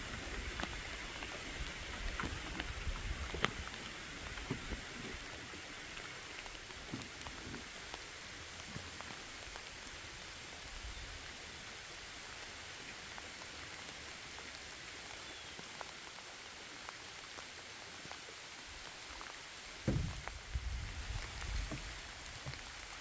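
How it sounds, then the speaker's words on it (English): Heavy rain pouring down on a lakeside hiking trail in Charleston Lake Provincial Park, Ontario, a dense continuous patter and hiss, close and steady throughout, with a few louder knocks and splashes near the start and end. "And it's pouring now. This is the most it's rained all day."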